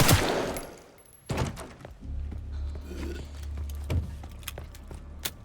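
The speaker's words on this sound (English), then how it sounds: "Just going to shoot this guy." Gunshots in the survival horror game Resident Evil Requiem, a few sharp, loud cracks spaced irregularly among lower in-game rumbling and clatter, with no talk.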